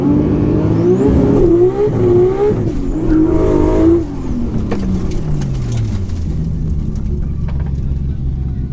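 Nissan R34 GT-R engine revs hard at high boost while the car drifts sideways to warm its tyres, a loud sustained wavering roar that rises and falls, then settles into a lower rumbling drone.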